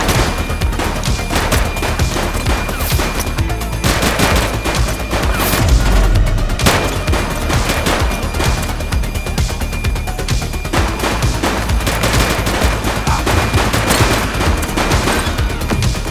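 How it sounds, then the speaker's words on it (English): Sustained gunfire in The Precinct, a police game, with rapid automatic bursts and single cracking shots layered over a loud, chaotic action soundscape, including one heavy thump midway. "She's shooting!"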